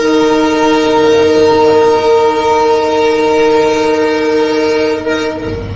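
An automobile-carrier goods train rolls past, its loud sustained horn holding steady for about five seconds before cutting off, with rail rumble underneath and no talk.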